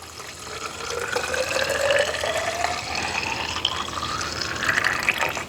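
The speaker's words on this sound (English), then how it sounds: "All that oil's draining." Engine oil draining from a vehicle during an oil change, a steady liquid pour and trickle that runs continuously at close range with no talking.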